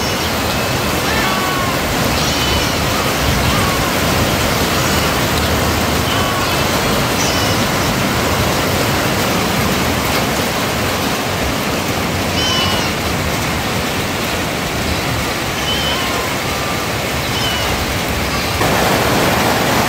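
Heavy rain pours down in a steady, dense roar that stays loud and unbroken for the whole stretch, with no talk over it.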